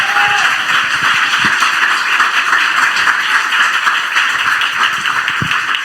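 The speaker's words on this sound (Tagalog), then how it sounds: "Lahat ang umiibig sa mahal na Panginoon, pumalakpak ng malakas." A church congregation claps loudly during a preaching service, a close, dense rattle of many hands with sharp individual claps standing out, steady and continuous throughout.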